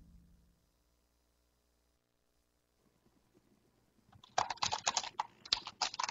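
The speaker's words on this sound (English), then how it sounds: "You hear that keyboard?" Rapid clicking of laptop keys starts after a quiet stretch, a close burst of uneven keystrokes filling the last two seconds.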